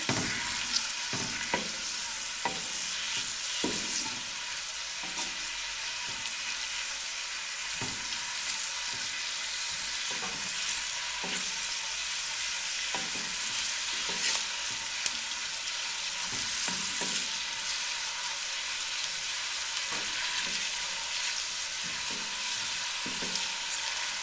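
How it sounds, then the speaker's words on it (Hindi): Onions frying in hot cooking oil for a mixed vegetable dish, a steady dense sizzle filling the whole stretch with scattered sharp crackles and pops, close and continuous with no talking. "प्याज़ों को अच्छे तरीके से हम भून लेंगे"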